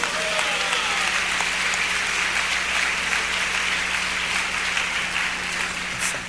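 A church congregation in Goiana, Brazil, applauds Jesus with steady, sustained clapping that fills the space evenly throughout.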